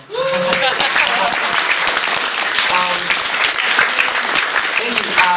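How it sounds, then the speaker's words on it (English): Audience applause for a game studio's team at a Fallout Equestria fan convention panel, a dense, loud wash of clapping filling the whole stretch, with a few voices calling out over it. "So give them an applause."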